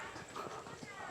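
A horse called Alka walks out at a nature campsite in Magdalena, Laguna, its hooves clip-clopping faintly under constant background noise for about a second.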